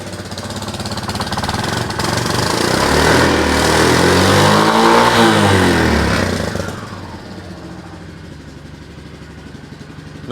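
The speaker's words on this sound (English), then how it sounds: "I'm going to unlock this, just so I can rev it a little bit and see the rear wheel move." A Yamaha Majesty YP250 scooter engine, back running after about two months idle, revs up loudly for several seconds and then eases back to a steady idle, with no talk.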